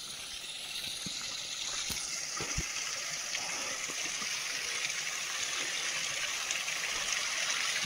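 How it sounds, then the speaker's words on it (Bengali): Water streaming down across a mountain trekking path between Gairibas and Chauri Bazar in rain, a steady broadband rush that holds at a moderate level throughout with a few faint clicks and knocks. "জল নামছে এখানে"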